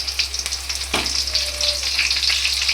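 Garlic and a few curry leaves hit hot oil for a chicken fry, giving a steady close sizzle with a sharp scraping stir about a second in.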